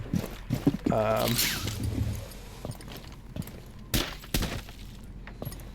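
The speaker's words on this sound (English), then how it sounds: "Now they're back to the old way of breaking glass." Window glass shatters in Rainbow Six Siege using the game's older breakage sound, heard as a few sharp, brittle crashes late in the stretch amid scattered clicks and game noise, with a voice speaking earlier.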